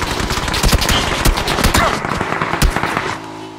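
Dense rapid gunfire in the online shooter game PUBG, loud and close, with overlapping automatic bursts and single shots throughout before it thins toward the end.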